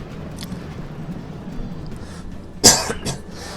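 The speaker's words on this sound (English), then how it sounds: "so sorry about the coughing" One loud, sharp cough from someone getting over a cold bursts out close by, followed by a couple of softer throaty sounds against a quiet background.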